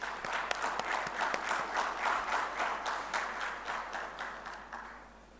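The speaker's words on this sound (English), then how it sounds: "request you to welcome them with a big applause" An audience at an HR round table in Hyderabad welcomes panel speakers with steady applause, a moderately sized crowd clapping evenly at some distance before it slowly dies down.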